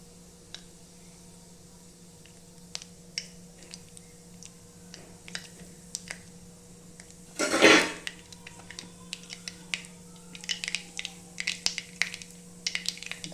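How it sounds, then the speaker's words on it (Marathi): Cumin and mustard seeds crackling in hot oil for salted brinjal, faint scattered pops and ticks with one louder sputtering burst midway and busier popping toward the end. "आता हे जिरे आणि मोहरी आपली कडकडली आहे."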